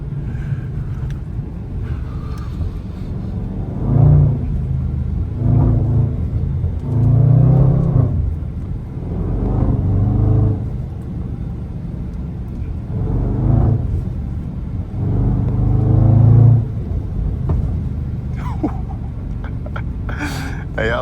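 A Range Rover SVR SUV with all-wheel drive rolling through snow, its engine a steady low cabin rumble with a few gentle swells of throttle, heard from inside, and voices speaking intermittently over it.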